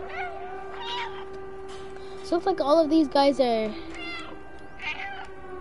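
A cat-like meowing from the video game Stray sounds several times in a row, mid-range and up close, as a person talks quietly before and after it.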